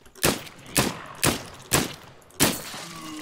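Gunfire in the survival shooter game Zelter: five sharp, loud shots spaced roughly half a second apart, each with a short decaying tail, with no talk.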